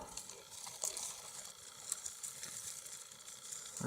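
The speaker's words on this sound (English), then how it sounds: "is raining out there" Steady rain hisses softly and evenly under spruce trees, a faint continuous wash with occasional light patters, with no voices.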